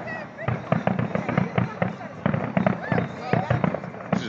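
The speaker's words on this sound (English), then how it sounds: "Look how much smoke there is in the air. Oh, you can see it kind of going through the fireworks," Fireworks and firecrackers crackle and pop in rapid, irregular bursts, loud and fairly close, with people talking and shouting underneath.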